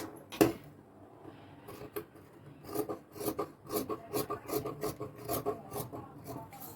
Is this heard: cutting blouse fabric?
yes